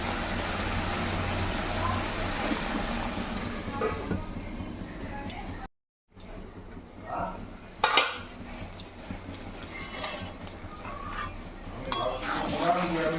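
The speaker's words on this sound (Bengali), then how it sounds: "এরপরে ঢাকা চাপা দিয়ে কমিয়ে কষতে থাকবো।" Mutton for a Bengali jhol is stir-fried with potatoes in a covered pot, a steady sizzle broken by metal spoon scrapes and clinks against the pot, with a brief silent gap midway and someone speaking over it.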